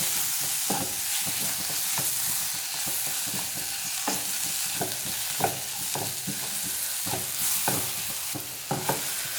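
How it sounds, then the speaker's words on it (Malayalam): Chopped tomato sizzling in a pan for Kerala-style egg curry as a spoon stirs it, a steady close fry broken by repeated scraping strokes and light clinks. "നന്നായിട്ടൊന്ന് ഇളക്കി കൊടുക്കും"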